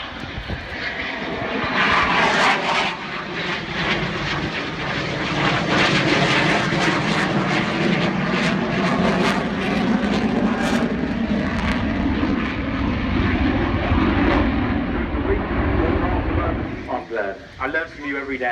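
A Eurofighter Typhoon jet flying its display at the Farnborough Air Show 2016, a loud sustained engine roar that sweeps and swells for most of the stretch before fading, with people talking over it.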